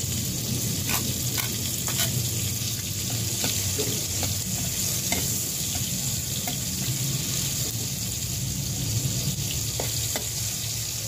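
Garlic fries in a hot pan with a steady, dense sizzle throughout and occasional stirring clicks, close and continuous with no talk.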